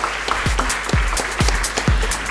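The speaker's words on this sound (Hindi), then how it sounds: "तो इस बात पे एक बार फिर जोरदार तालियां हो जाएं" Applause from a training-event audience for newly trained Skin Formula 9 consultants at a Vestige session, a dense steady patter with a recurring heavy thumping beat running underneath throughout.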